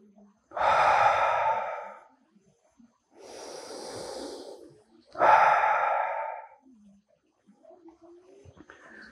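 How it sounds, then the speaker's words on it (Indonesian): Two deep breaths drawn in, then a long exhale through the mouth during yoga practice, close and clear, with quiet pauses between breaths and no talking. "Tarik nafas 2 kali dan hembuskan dari mulut"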